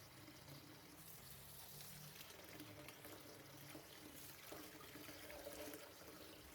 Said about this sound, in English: Fill the basin with water and wash the tapioca leaf thoroughly.